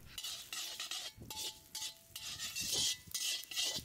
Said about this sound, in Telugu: ఇప్పుడు 2 చెంచాలు ఆయిల్ వేసుకుని మినప్పప్పు దోరగా, అంటే కలర్ మారే వరకు వేయించుకుందాం